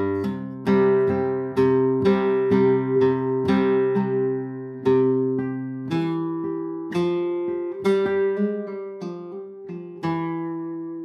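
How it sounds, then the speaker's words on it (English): A flamenco guitar plays an alzapua falseta from a bulerias, with percussive thumb strokes and strummed chords in a driving, syncopated rhythm, close and clear with no talk. "So we begin with this alzapua."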